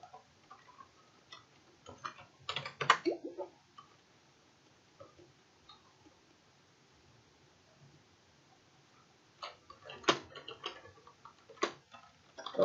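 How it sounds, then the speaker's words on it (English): Quiet clicking of keys on a new computer keyboard during Toontown gameplay, coming in two scattered bursts of rapid taps with a pause between them. "Sorry if you hear my keyboard. It's like the new one I'm trying to use."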